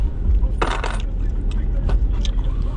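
Coins set down on a surface inside a truck cab, a short bright jingle and clatter up close with a few lighter clinks after, over a low engine hum.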